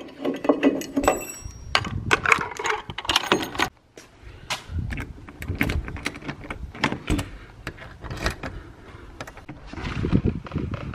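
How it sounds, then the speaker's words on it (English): Keys jangle and clink repeatedly in bursts, close and fairly loud, mixed with rustling and handling noises, with no talking. "So I'm gonna go grab keys."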